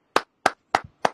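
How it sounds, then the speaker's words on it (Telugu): Four crisp, evenly spaced claps ring out one after another in a quiet room, with no crowd noise behind them, as people at a meeting are asked to applaud. "ఒకసారి గట్టిగా అందరం చప్పట్లు కొడదాం సార్"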